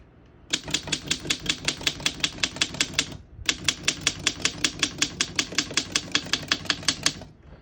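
Rapid, steady clacking of a 1901 Underwood No.5 manual typewriter's keys struck one after another, with a brief pause before the typing resumes at the same even pace.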